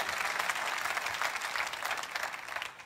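A church congregation breaks into sustained applause that swells and holds as a dense wash of clapping, heard from a distance in a large room and fading slightly at the end.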